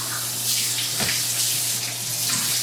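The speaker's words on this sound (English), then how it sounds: "We're going to pour hot milk." Hot milk poured into a bowl for Christmas bread dough, a steady liquid stream running continuously at close range with a faint low hum beneath.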